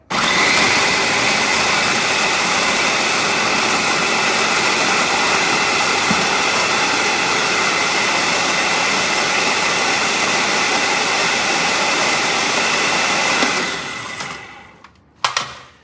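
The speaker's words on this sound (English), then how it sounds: "Let's plug in this food processor." A food processor blending eggplant whirs loudly and steadily with a high motor whine for most of the clip, then winds down and stops with a brief clatter.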